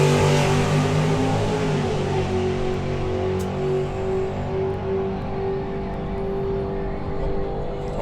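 Two-seater drag racing car launching down the strip into a headwind, a loud engine roar that is strongest at the start and then fades and recedes as the car pulls away into the distance.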